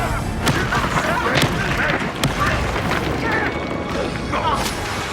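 Confringo explosive spell blasts going off in Hogwarts Legacy battle, a series of booming impacts amid dense combat noise and sharp bursts, with voices in the fray.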